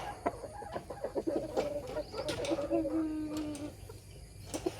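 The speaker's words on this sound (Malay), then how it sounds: "Ayam yang comel lah." An adult hen, round and plump, clucks in a series of soft, close calls, with faint background noise between them.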